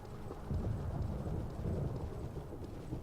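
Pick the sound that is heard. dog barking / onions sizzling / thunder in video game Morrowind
thunder in video game Morrowind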